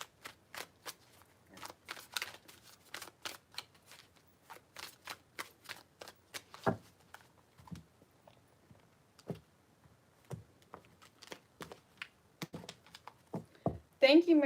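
Crisp, rapid riffles of tarot cards being shuffled in quick bursts, repeated several times with brief pauses between, close and clear with no one speaking.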